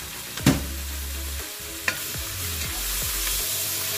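A utensil stirs shrimp pasta in a creamy shrimp sauce in a pan, with a few sharp scrapes and clacks over a continuous low sizzle, close up and without talk.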